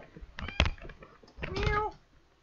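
Pet cat meowing indoors, a couple of short close mews followed by a longer drawn-out meow, with a few faint clicks in between.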